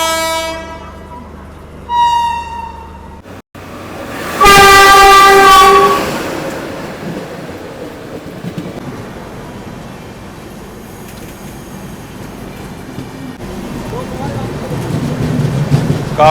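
The 20847 Durg Udhampur Superfast passes slowly at about 30 kmph, overtaking on a station stretch where it does not halt. A loud horn blast with harmonic tones opens the pass, followed by a sustained near rumble of wheels and rail clatter, with brief talk early on.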